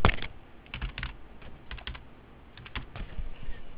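Rapid bursts of typing on a computer keyboard during bookkeeping data entry, clusters of close, crisp key clicks with short pauses between them, no voices.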